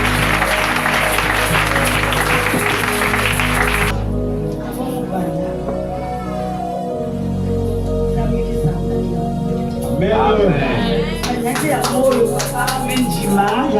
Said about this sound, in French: Est-ce que tu vas acclamer très fort pour Jésus?